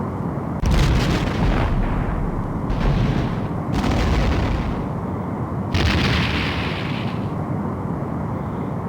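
Starship weapons fire and explosions in a Star Trek: The Next Generation video game, heavy booming blasts arriving in several loud bursts over a constant rumbling roar, with no talk.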